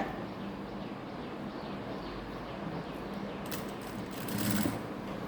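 A sewing machine stitches lining fabric in a steady, close, continuous mechanical whir, running throughout the short stretch with a slight rise in intensity toward the end.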